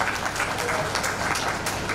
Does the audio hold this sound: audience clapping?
yes